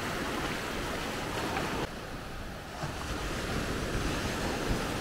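Small, gentle ocean waves wash steadily onto Maspalomas beach on Gran Canaria, a continuous close surf hiss with some wind noise over the microphone and a brief dip in level partway through.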